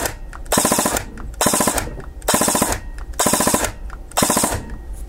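An airsoft gun fitted with a Perun AB++ mosfet fires five rapid bursts of about five rounds each, every burst a crisp, fast rattle of shots separated by short regular gaps, loud and close.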